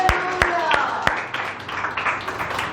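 Sharp hand claps ring out in a steady rhythm during a church worship service, then blend into a busier wash of clapping and voices from the congregation.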